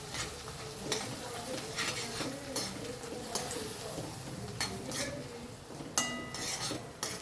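Spinach chutney, palakura pachadi, being stirred in oil in a pan, with repeated sharp scrapes and clinks of a spoon against metal at an uneven rhythm over a low background hiss, fairly quiet.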